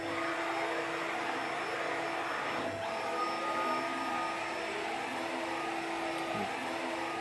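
CNC router running a surfacing pass across a spoilboard, giving a steady, continuous high whine with a constant motor drone at moderate loudness throughout, alone without speech.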